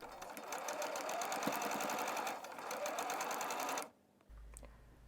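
A sewing machine stitches a dress seam in a steady fast whirring run of rapid needle beats for about four seconds, close and loud, then stops abruptly.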